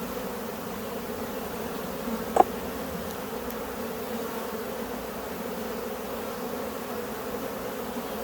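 Honeybees hum around an open hive as supers are set aside and queen excluders are added, a soft, steady, continuous buzz with one brief faint knock partway through.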